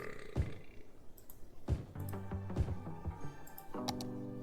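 A burp in a soda radio advert inside the city-building game Cities: Skylines, heard among a few sharp clicks and knocks and followed by brief musical tones, loud and close, with no speech.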